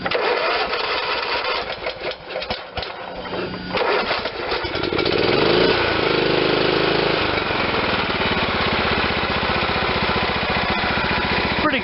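A John Deere LT160 lawn tractor's small engine runs at idle after a carburetor adjustment, a steady, loud, close mechanical drone that settles into an even rhythm with no talking.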